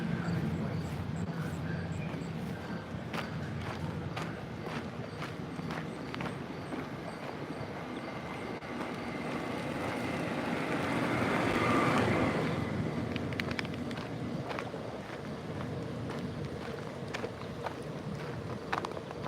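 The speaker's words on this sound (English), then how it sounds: "Looks like the ferry's getting ready to leave." A ferry at Pelee Island prepares to depart, its engine rumbling and the boat droning beneath wind buffeting the microphone and lapping waves, swelling midway before settling back.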